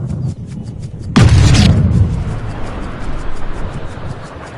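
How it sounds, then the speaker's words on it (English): A golf tee shot on the 468-yard par-4 15th hole at La Quinta: one sudden, loud, booming crack of the ball leaving the club face, then a fading rumble over quiet outdoor ambience. "Frank, did you hear the sound of that coming off the club face?"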